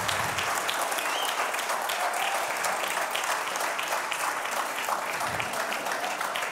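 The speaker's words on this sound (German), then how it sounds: "Applaus." A church congregation applauding after a sermon, dense sustained clapping from many hands filling the room at an even level throughout, with faint voices mixed in.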